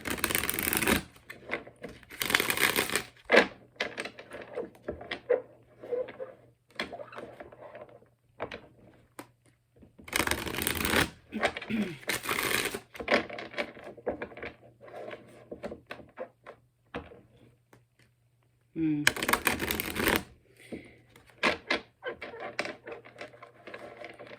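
Repeated bursts of tarot cards being shuffled, each a crisp flurry of riffling, separated by quieter handling, tapping and rustling of the deck.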